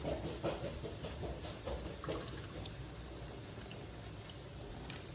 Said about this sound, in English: I gotta drain this water a little bit.